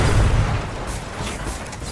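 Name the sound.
gunfire shooting at the player in the video game Destiny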